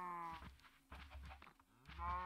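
Several Minecraft cows moo one after another, deep drawn-out lowing calls spaced across a couple of seconds, fairly quiet.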